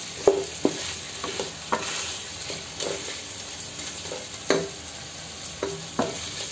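Green chillies and curry leaves frying in hot oil give a steady soft sizzle, broken by intermittent spoon clacks and stirring knocks against the pan, close up, with no talking.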